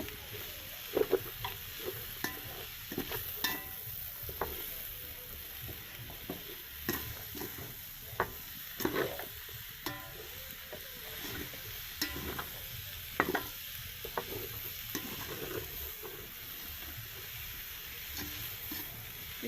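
Chicken kottu ingredients stirred and tossed in a hot pan, a continuous soft sizzle broken by repeated sharp scrapes and clanks of the utensil, close up with no voices.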